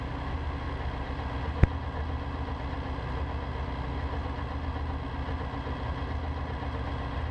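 A Trendak Tercel gyroplane engine idles steadily with a dense, even rumble that holds constant throughout, broken only by one sharp click near the start.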